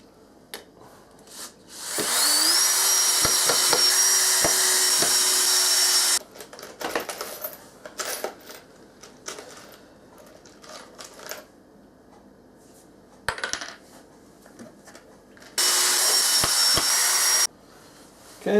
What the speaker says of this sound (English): I just thought I'd fasten these safety planks for now.